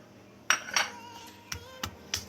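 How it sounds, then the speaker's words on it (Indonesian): Shallots and garlic pounded with a mortar and pestle while cooking nasi goreng, a handful of sharp, close knocks and clinks spaced irregularly over a faint background, no talking. "Terus kita ulek bawang merah dan bawang putih"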